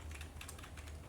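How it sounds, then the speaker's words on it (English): Quick, light keystrokes on a computer keyboard patter in a short, close burst of several clicks, alone and fairly quiet. "type google.com."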